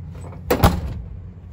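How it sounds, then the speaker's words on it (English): A van door slams shut once, a single sharp, loud thump near the middle of an otherwise quiet moment inside a van being converted into a living space. "I got my doors closed."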